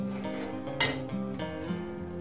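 Masala with coriander leaves is stir-fried in a pan for a fish-head curry, quiet scraping and clinking of a spatula against metal over a faint sizzle and a low steady hum.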